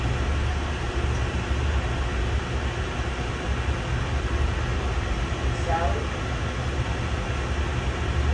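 Steady, loud rumble and roar of a passing freight train heard from aboard Amtrak's Cardinal near Manassas, Virginia, constant throughout with no breaks, close by.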